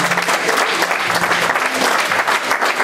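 A church congregation applauding, a loud sustained burst of dense clapping from many people in the room, steady throughout.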